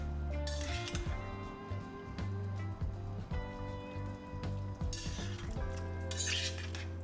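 Braised pork belly with pickled mustard greens stirred in a pot, with soft clinks of a utensil against the pot over a low bubbling simmer, fairly quiet and close.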